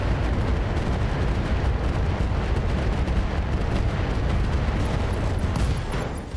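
Mech weapons in RogueTech firing on a Banshee, a sustained roaring barrage of booming blasts and crackling impacts that holds loud and dense before tailing off at the end.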